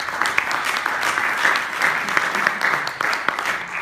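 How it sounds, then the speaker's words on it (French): Attendees at a Green IT Day workshop on water and energy applaud with lively, uneven clapping. Some sharp individual claps stand out from the steady wash, and a few faint voices can be heard underneath. "On peut applaudir, je pense."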